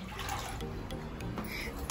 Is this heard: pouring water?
yes